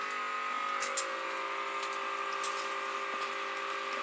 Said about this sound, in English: So there goes the pump, and you can see the water going through.